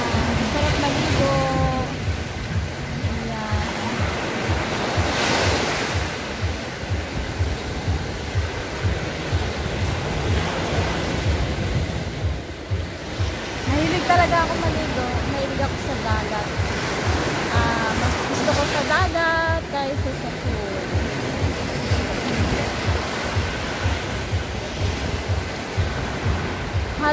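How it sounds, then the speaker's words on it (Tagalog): Ocean surf washes steadily onto a beach where people go swimming on Sundays, a continuous broadband roar with wind buffeting the microphone, while voices talk and call out over it throughout. "nandoon na sila sa beach"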